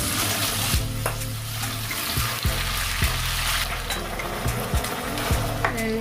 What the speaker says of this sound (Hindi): इस तरह से आप कीमे को अच्छे से भून लीजिएगा और नॉन स्टिक पैन यूज़ कीजिएगा